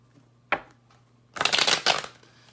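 Cards riffle-shuffled up close: a sharp snap, then two dense bursts of rapid fluttering clicks, in a quiet room.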